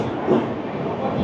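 Shatabdi Express train entering Kishanganj station, heard from inside as a steady rumbling, rattling roll with faint voices in the carriage.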